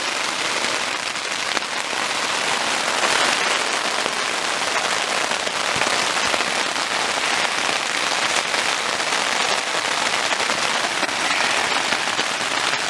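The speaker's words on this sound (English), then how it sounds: "Well, it's raining pretty hard." Heavy rain pours down steadily, a dense, loud, unbroken hiss of drops hammering surfaces that holds constant throughout, with no voices.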